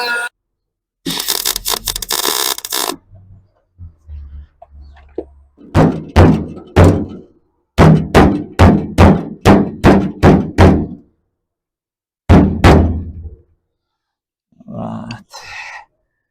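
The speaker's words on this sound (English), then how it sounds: "Cut, hammer, cut, hammer," Bursts of grinding cutting alternate with rapid series of loud, sharp metallic hammer blows on a rusty steel 1937 Ford Coupe door, several strikes per burst, close up, with brief quiet gaps.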